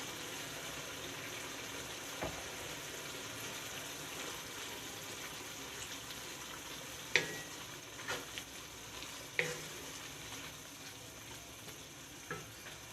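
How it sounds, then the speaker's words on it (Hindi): Mutton mince frying in a pan with garlic ginger paste, a soft continuous sizzle with occasional spoon clinks and scrapes, close but fairly quiet, no voices. "दो मिनट हो चुके हैं कीमे को फ्राई करते हुए लहसुन अदरक के पेस्ट के साथ।"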